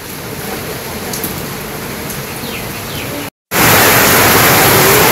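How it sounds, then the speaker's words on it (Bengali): Heavy rain falls in a village with a dense, steady hiss. After a brief silent gap the downpour returns noticeably louder and closer. No voices are heard. "নামছে বৃষ্টি একবারে অজর ধরায়,"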